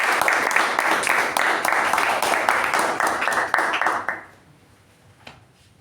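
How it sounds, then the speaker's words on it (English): A meeting audience claps for the evaluators in steady, moderately loud applause that stops abruptly after about four seconds, leaving near silence with one faint knock. "let's give them a big round of applause"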